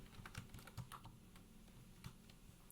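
Quiet keystrokes on a computer keyboard tap out in scattered, irregular bursts, soft and close against a near-silent background with no voices.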